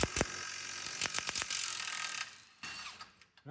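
Ratchet wrench cranking the power steering box bolts on a Buick, with quick bursts of sharp metallic clicks, then a steadier stretch of ratcheting before it trails off, close and alone.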